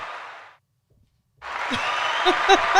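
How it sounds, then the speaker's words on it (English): Applause breaks out in a podcast studio after a brief pause, a dense, steady patter of clapping from a small group, close and sustained to the end. "A round of applause"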